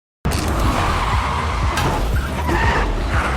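A car skids, its tires squealing across the pavement, and then rams into the back of another parked car. The noise comes in close and loud as a single sustained rush of tire and engine noise.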